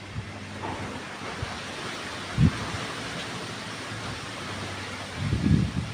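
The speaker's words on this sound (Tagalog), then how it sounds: "Sarap ng hangin. Hangin walang ulan." Steady wind rushing outdoors with a low rumbling roar, occasional soft gusts buffeting the microphone, no voices.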